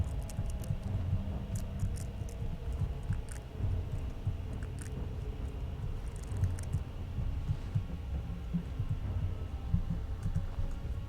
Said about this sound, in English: The heartbeat thing is tough too